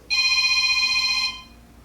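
A telephone gives one loud, close electronic ring, a steady bright tone lasting just over a second before it fades, heard in a quiet room with no talking.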